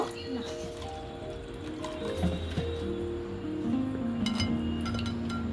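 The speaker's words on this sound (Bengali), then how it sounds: "এটা আমি জল পাল্টে পাল্টে ধুয়ে নেব।" Sago pearls are washed in water by hand, with soft sloshing, squishing, dripping and faint clinks of the bowl, quiet and close, under a steady background hum.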